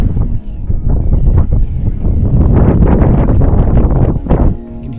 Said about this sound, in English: Got about 20 mile an hour wind.